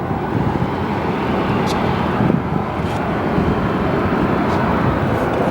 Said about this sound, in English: Here goes that E-Jet to Durango. It sounds like a full power takeoff.